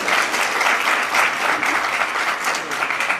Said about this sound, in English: A big round of applause for one and all present will be amazing.